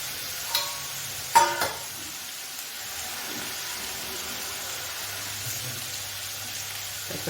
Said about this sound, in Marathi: आपण छान असा फ्राय करून घेऊ